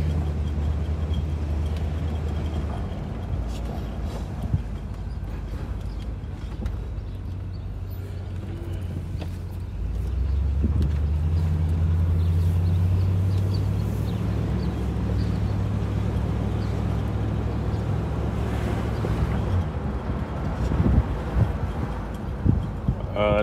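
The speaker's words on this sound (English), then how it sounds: "Seems like we got a little rattly wheel cap." A 1975 Pontiac Grand Ville on a test drive gives a steady low engine and road rumble, with a faint, irregular rattle from a loose wheel cap or hub riding underneath.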